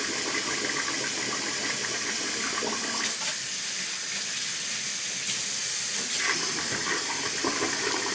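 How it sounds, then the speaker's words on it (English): Rice being rinsed under running tap water in a sink to wash off the starch, a steady close splashing flow with a few brief clatters and surges, no talking. "I'm going to wash this rice"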